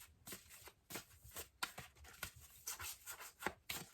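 Oracle cards from the Goddess Dream and Goddess Love decks being shuffled by hand: quiet, uneven bursts of riffling and slapping card noise, close by and with no talking.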